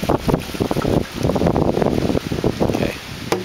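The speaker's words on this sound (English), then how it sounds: "Yeah, I know it's windy." Strong gusts buffet the microphone with heavy rumbling wind noise, rising and falling in waves throughout.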